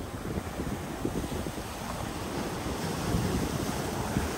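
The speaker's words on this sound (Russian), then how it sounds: "Представляете, какие сильные волны сегодня?" Strong sea waves crash steadily onto a beach on a rainy, stormy day at the Fujairah coast, a continuous loud roaring surf with gusts of wind buffeting the microphone and no voices.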